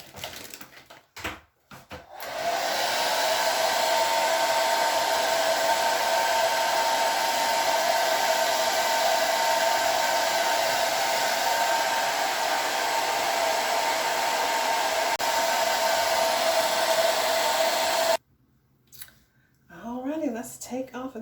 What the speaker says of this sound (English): I'm gonna blow dry this